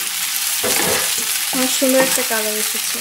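Mola fish frying in oil in a pan gives a steady, close, crackling sizzle throughout, with a voice talking over it partway through.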